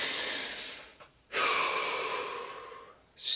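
A deep breath drawn in and let out during a guided relaxation session: a long, airy inhalation, a short pause, then a fuller, steady exhale that fades, with another breath beginning at the end, close and alone.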